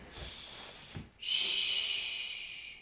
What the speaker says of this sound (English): out through the mouth, through pursed lips and tongue